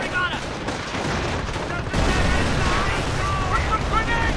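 Battlefield gunfire in the Company of Heroes video game, dense rattling bursts and heavier blasts layered with rumbling, loud and continuous, with a brief shouted voice mixed in.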